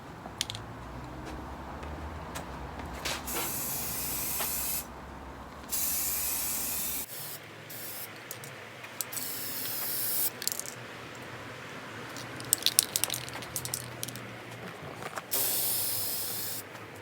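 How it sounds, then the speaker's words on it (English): Spray paint hissing from an aerosol can onto a bespoke bent metal curtain pole tube, in repeated bursts of varying length separated by short pauses, close and fairly loud. "Hopefully, we're ready to spray."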